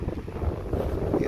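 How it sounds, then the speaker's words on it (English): Hurricane Sally wind gusts buffet the microphone at a small craft harbor in Biloxi, a continuous low rumble, loud and close, with no clear talking. "It's windy."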